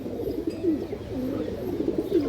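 Dobaz bloodline pigeons coo in a steady, close, low rolling rhythm, with repeated burbling calls rising and falling over about two seconds and no talking.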